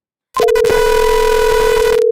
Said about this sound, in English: There it is. It's ringing.